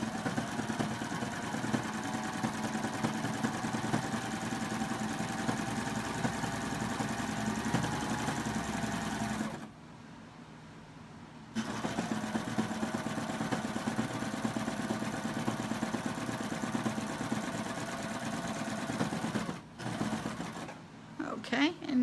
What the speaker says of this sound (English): if I sew off, see how it stops forming a stitch?